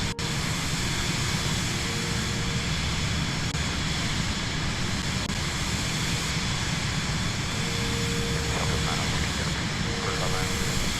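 Steady, loud airliner engine drone from a flight simulator game during a flight over the Catskills, a continuous broadband roar with faint tonal hum that never lets up.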